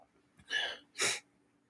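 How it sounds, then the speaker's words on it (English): Two quick, breathy bursts like a sneeze or a sharp intake then release, close by and otherwise quiet. "I have a sneeze coming up."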